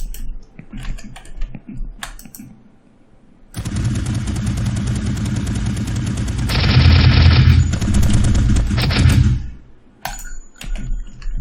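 An enemy NPC in an Unreal Engine game fires an M16-type rifle in a dense, continuous automatic burst lasting several seconds, loud and close, with scattered clicks and clatter before and after.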